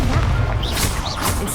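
Confringo spell blast in Hogwarts Legacy, a loud dense crashing burst filling the whole moment, with whooshing, swirling magical tones rising over it.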